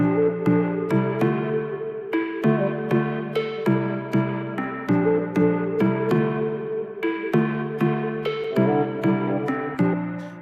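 A looping sample of layered sustained tones, with soft, regular percussive ticks over warm harmonic chords, steady and moderately loud with no voices.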